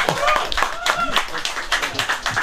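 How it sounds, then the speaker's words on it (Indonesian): Clapping at a cycling club gathering for Coach Jacob, scattered claps heard under people talking over it. "tepuk tangan sekali lagi untuk Coach Jacob"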